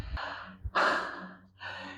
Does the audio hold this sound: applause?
no